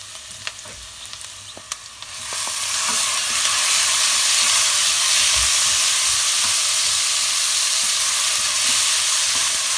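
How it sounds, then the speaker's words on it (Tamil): Tomato and onion sautéing in a pan for a crab stir-fry, quiet stirring clicks at first, then a loud, steady sizzle that fills the rest of the clip up close. "தக்காளியும் வெங்காயம் கொஞ்சம் வதங்கட்டும்."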